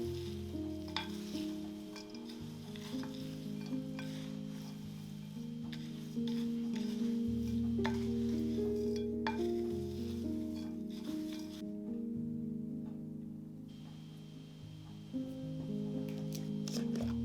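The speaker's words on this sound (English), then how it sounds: "Just going to stir this all up" Dry granola ingredients are stirred together in a bowl, giving a steady, continuous scraping rustle that runs close and fairly loud for the whole stretch, without talk.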